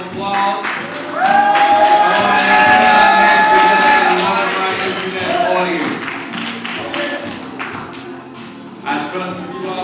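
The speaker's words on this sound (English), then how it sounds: "We want to take this time to welcome our internet audience with a loud round of applause." A church congregation gives a loud round of applause for the online audience at a sermon, dense clapping that swells quickly, holds strong for several seconds, then tapers into scattered claps and murmurs.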